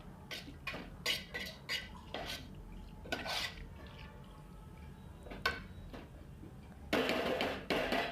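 Chicken pieces are stirred and pressed down in a metal cooking pot for chicken pulav, giving scattered close clinks and scrapes of a utensil against the pot with quiet pauses between.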